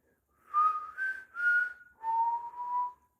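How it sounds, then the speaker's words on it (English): A person whistles four short melodic notes, the last drawn out and slightly lower, close and clear against silence. "I can't really whistle."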